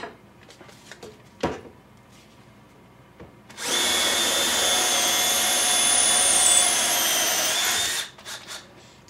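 A Festool CXS cordless drill/driver spins a bit in a steady high whir lasting about four seconds, loud and close, with a few handling knocks before and after.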